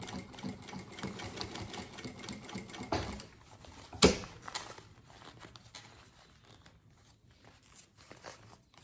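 A sewing machine stitches fabric for a mini suitcase in a rapid, close mechanical whir with short pauses, one sharp clack midway and slower stitching afterward.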